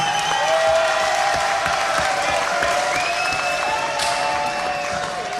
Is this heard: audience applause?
yes